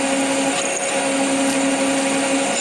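Drill boring an 8.5 millimeter hole in metal for a new lathe tailstock, a loud steady whine with a constant pitch heard alone and close for the whole span.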